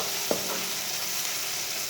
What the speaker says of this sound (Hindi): बैंगन और प्याज को ना 2-3 मिनट के लिए फ्राई कर लेना